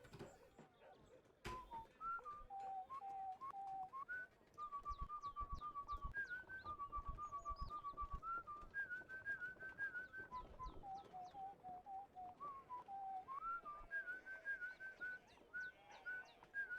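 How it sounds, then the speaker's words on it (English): A traveling bard in the video game Warsim whistles a long old gnomish tune, a steady melodic line of short phrases rising and falling over a constant background bed, with no voices. "You are visiting by a traveling bard who asks to whistle an old gnomish tune."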